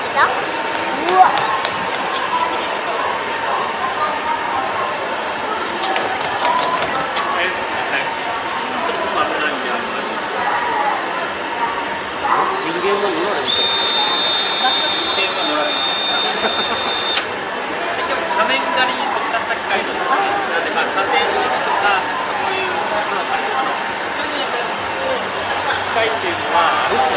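A farm machine engine that tilts itself automatically runs with a steady, loud mechanical drone, and a brief high whine rises midway. A person talks over it.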